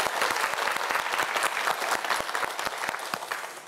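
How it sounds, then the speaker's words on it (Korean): A studio audience on a televised science quiz show claps for a student contestant, dense steady applause with many distinct hand claps, loud and continuous before tapering slightly at the end. "이현진 학생을 위해서도 박수 한번 부탁드립니다"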